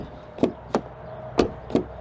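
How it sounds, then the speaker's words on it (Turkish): Door of a Hozon Neta U electric car shutting: four short, solid thuds in two pairs, close and fairly loud over quiet background, with no talking. "Kapı sesini merak eden arkadaşlar çok fazla var."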